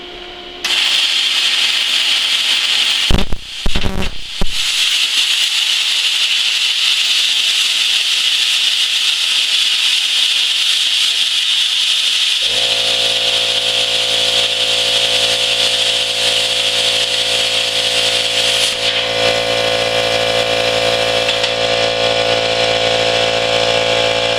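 A Cut 50 plasma cutter slices through 1/8 inch 304 stainless steel with a loud, steady hissing roar after a sputtering start, its tone shifting and humming more midway through the cut.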